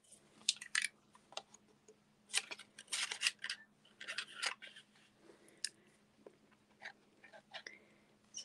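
Scissors snipping through patterned paper for a handmade card, with a series of short, close crisp cuts in uneven bursts while someone talks softly between them.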